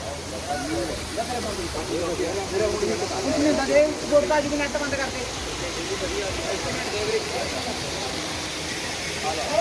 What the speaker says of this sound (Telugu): కేదార్నాథ్ యాత్రలో జలపాతం